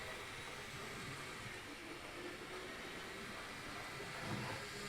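A Hornby TT 120 model train runs around a layout over spongy, distorted track, giving a steady, continuous rolling hiss and rumble with no pause, no talking and fairly faint overall.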